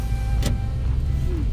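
A car being driven gives a steady, loud low rumble from inside the cabin, with a brief whooshing swell partway through and no talking.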